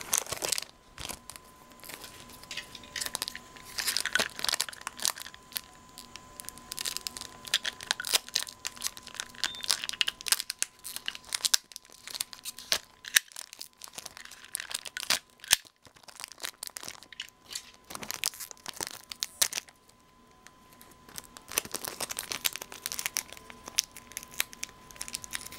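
Japanese Pokémon card booster packs from a Shiny Collection box are torn open and handled, with repeated close foil crinkling, crunching and ripping in irregular bursts over a long stretch, and no voice heard.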